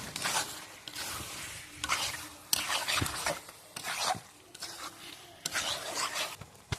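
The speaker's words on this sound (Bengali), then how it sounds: "মাংসটাকে নাড়বো ভালো করে দিয়ে ঢাকা দিয়ে দিয়ে কষাবো ভালো করে" Chicken meat is stirred while braising in a pot over a home clay stove, with repeated rubbing, scraping strokes of a spoon against the pot and wet squishing, close and fairly quiet, in an uneven rhythm.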